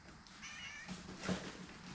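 A cat meows close by, one drawn-out call followed by a shorter, sharper meow, clear over a quiet room.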